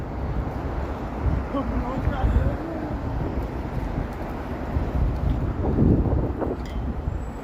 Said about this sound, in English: the wind is nasty. It's nasty. And my phone doesn't like it too much.